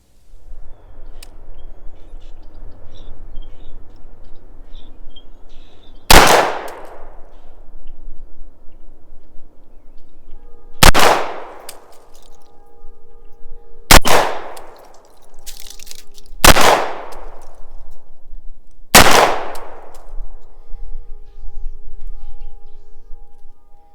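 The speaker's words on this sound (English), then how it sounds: "A 5-inch pistol from 50 yards. 4 out of the 5 shots are on this target." Five sharp, loud gunshots from a CMMG Banshee pistol with a 5-inch barrel on an outdoor range, fired at a 50-yard target, spaced several seconds apart with ringing decay over a quiet background hum.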